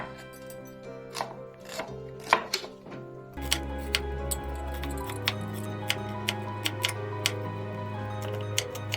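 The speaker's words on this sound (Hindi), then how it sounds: "अब मैं प्याज को बारीक काट लूंगी।" Knife chopping onion finely on a board, a run of quick, evenly spaced crisp taps close by, steady and unhurried over a low background hum, with no talk.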